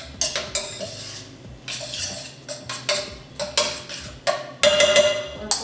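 Tomato paste is stirred in a pan with a spoon, giving irregular scraping and clinking strokes against the metal, close and fairly loud, with no talking.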